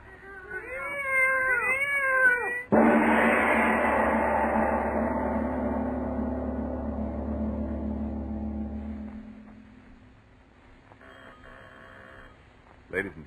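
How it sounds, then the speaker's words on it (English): Two cats meowing and caterwauling in a 1942 radio horror drama, several wavering, rising and falling cries close up for a few seconds, then cut off by a loud sustained low rumble that fades away, followed by faint ringing tones. "I tell you, there's two of them. Lona, listen to them. They're not ordinary cats."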